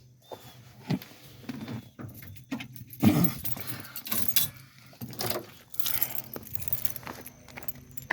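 Keys for a 1965 Pontiac Catalina jangle and clink in the hand in several short bursts, close by, with a dog whimpering intermittently in the background.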